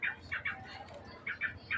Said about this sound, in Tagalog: Ibon, bagong gising muna